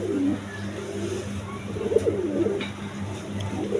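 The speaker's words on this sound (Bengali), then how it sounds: "দেখেন এখানে একটা বন্টিনেটের নর কবুতর আছে" Pigeons cooing, including a Bontinet cock pigeon, with soft low throaty coos rising and falling under a constant background hum and faint distant traffic.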